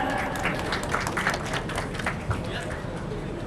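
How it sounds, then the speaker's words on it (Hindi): An audience claps loudly and steadily at a children's music performance prize distribution ceremony, a dense, continuous wash of applause with voices murmuring underneath throughout. "जोरदार तालियां।"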